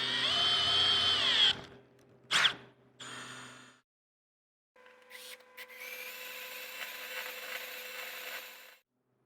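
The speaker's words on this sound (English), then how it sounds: "for those of you that have never seen a rib nut get set" A hand tool sets a rib nut (rivet nut) for DIY boat-side rock sliders, giving a whirring mechanical burst, a sharp clack, then a longer grinding mechanical run, all fairly close.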